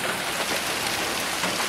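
Hail falling outside, a steady dense hiss of pattering ice on surfaces with no pauses, loud and continuous throughout.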